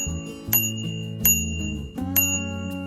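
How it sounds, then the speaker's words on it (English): The handlebar bell on a Qlife Cityone 2.0 commuter electric bike is struck three times, each a bright metallic ding that rings on clearly and close, over a low steady tonal background. "This right here is actually going to be your bell. So just push down on this."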